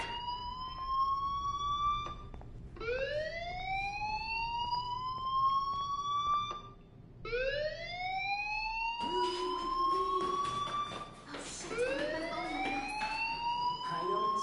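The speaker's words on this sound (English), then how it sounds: "do you hear that fire alarm? That means you should be outside." A fire alarm in the video game Life Is Strange wails in repeated rising electronic sweeps, each lasting a few seconds, loud and continuous over a faint background hum.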